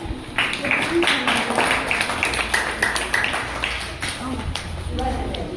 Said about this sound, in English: Come on everyone, clap louder to cheer them.